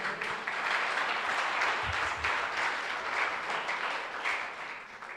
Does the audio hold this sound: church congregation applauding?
yes